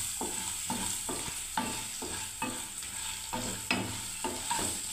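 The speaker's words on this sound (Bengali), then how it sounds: "এদিকে আমার দেখুন বন্ধুরা পনিরটা ভাজা হচ্ছে" Paneer fries in a pan with a steady, quiet sizzle, broken by regular scraping strokes as it is stirred, and no one talks.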